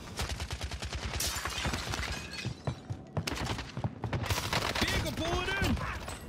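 Rapid bursts of automatic gunfire and scattered shots crackle in the video game Call of Duty: Warzone, dense and continuous with some sharp impacts, while someone talks excitedly over the shooting.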